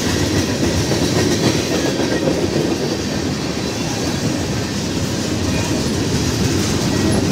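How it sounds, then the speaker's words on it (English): Canadian National 8866 freight train rolls through Effingham, Illinois, its cars passing close in a steady, loud roar with rhythmic clickety-clack of wheels on rail joints and faint wheel squeal throughout. "Canadian National 8886. Freight train going through Effingham."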